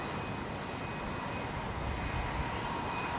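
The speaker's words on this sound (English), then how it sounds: "it looks like the Dassault Falcon 480. just cleared for takeoff." Dassault Falcon business jet taking off at Brisbane airport, a continuous even jet roar with a faint high whine, steady and somewhat distant, without talk.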